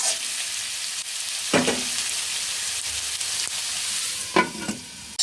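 Leftover rice frying in a covered pan over low heat, a steady soft sizzle running throughout with a few brief scraping stirs, close and moderately loud, no talking.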